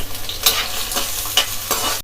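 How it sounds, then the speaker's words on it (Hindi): A chopped medium onion drops into hot oil in a home kitchen for Delhi-style chole, giving a steady close sizzle with a few brighter crackling bursts as the pan is stirred, and no talking. "ये प्याज डाल दे रहे हैं।"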